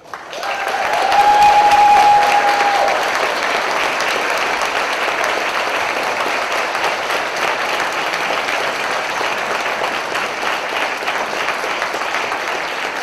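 A community meeting audience applauds Shaker Heights Fire Chief Patrick Sweeney, the clapping swelling quickly to a loud peak and then holding steady as sustained, dense applause from a room full of people.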